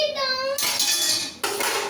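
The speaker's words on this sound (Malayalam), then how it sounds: "എൻ്റെ കുക്കർ മിന്നു താഴെ ഇട്ടു ഗൈസ്" A pressure cooker dropped on the floor by a child, a sudden metallic clatter and ring from heavy cookware striking a hard floor, with a second bang near the end, close and loud in a home kitchen.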